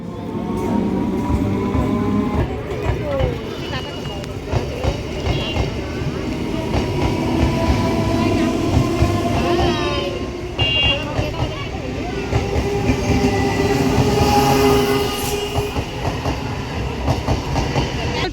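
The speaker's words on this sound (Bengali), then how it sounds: "দেখেছো ট্রেন গেল" A train passes close by near Gobardanga, its loud rumble and clickety-clack of wheels over rail joints continuing steadily throughout, with faint voices in the background.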